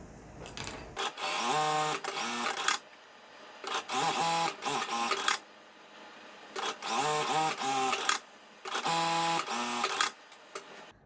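Sewing machine topstitching a fabric bag handle 0.2 cm from each edge, running in four steady bursts separated by short pauses, close and alone.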